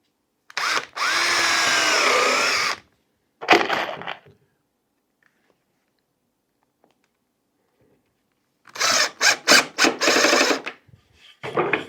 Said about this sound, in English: And drill and mount there.